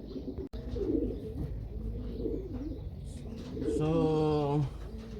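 Racing pigeons coo in a loft, soft low calls repeating over a muffled background, with a louder, drawn-out coo near the end and a brief knock early on.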